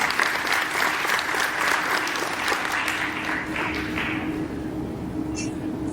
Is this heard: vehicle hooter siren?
no